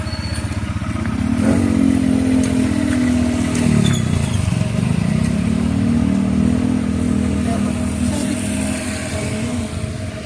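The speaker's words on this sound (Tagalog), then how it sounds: "Masikip ng motor ni Joby." A motorcycle engine runs steadily close by, its pitch rising and falling as it revs, with faint clatter and no talking.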